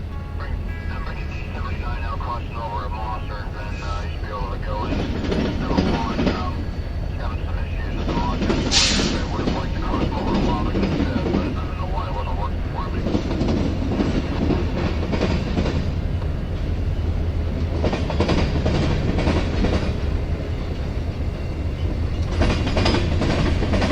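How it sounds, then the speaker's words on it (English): A westbound Norfolk Southern grain freight train rolls steadily along the Wabash Mainline near the CN Diamond in Illinois, a continuous rumble with rhythmic clickety-clack of wheels over rail joints, with a voice talking over it. "The first train we captured here was westbound grain train D79"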